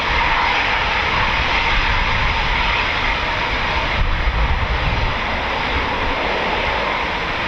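A Royal Air Force Eurofighter Typhoon FGR4 jet at RAF Coningsby, heard as a loud continuous engine roar that holds steady throughout with no talking.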